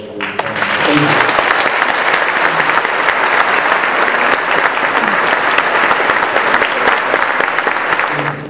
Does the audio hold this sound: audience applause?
yes